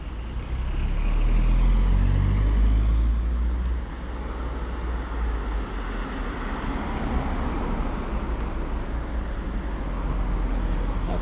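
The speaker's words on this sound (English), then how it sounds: "You can even hear the cars coming." Road traffic in Garmisch-Partenkirchen: a vehicle rumbles close by and loud in the first few seconds, then a steady wash of passing cars and engine noise continues at a moderate distance, with no talking.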